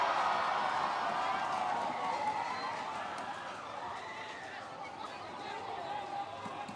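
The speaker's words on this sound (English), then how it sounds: "This Indonesian crowd does not need much to lift and show what they are all about. Any inkling, and that noise level rises and rises and rises." Indonesian crowd at an Indonesia v Thailand football match in the IFCPF Asia-Oceania Cup roars loudly, then the broad crowd noise gradually eases off.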